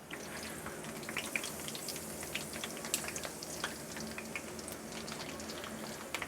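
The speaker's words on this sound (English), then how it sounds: "we're frying it up" Steady sizzling and crackling of hog jaw frying in a pan, with small pops scattered throughout at an even, moderate level.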